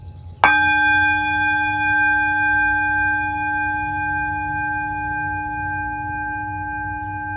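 A meditation bell is struck once, giving a clear sharp strike followed by a long, steady ringing tone that sustains and slowly fades across several seconds, alone over a low background hum.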